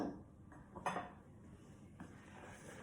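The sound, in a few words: mixing olive oil dough in a bowl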